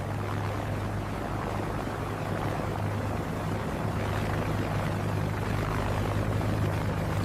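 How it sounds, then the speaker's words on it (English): A steady, droning engine roar of AI-generated airplanes overhead, with a constant low hum and broad rushing noise that holds evenly throughout. "I like the plane sounds on this too."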